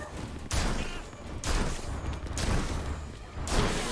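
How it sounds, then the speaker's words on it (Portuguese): Several heavy charged gunshots in the video game Gotham Knights boom out at intervals, each a loud broadband blast with a rumbling tail, over continuous background noise. "o tiro carregado dele"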